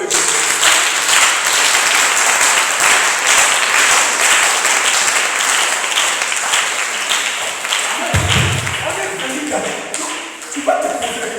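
A church congregation applauds loudly and steadily for about eight seconds, the dense clapping then thinning into scattered claps and thumps near the end.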